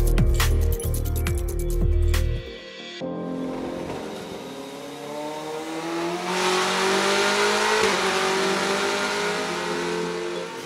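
BMW M8 GTE twin-turbo eight-cylinder race engine running, with a sharp, loud burst of revving at first, then a sustained high-pitched engine tone that rises in pitch.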